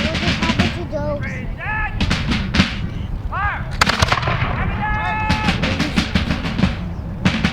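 Firearms crack out in a loud, ragged volley at a Revolution-era reenactment in Huntington Beach: overlapping sharp shots and booms close by, with whistling tones and crowd voices mixed among the blasts.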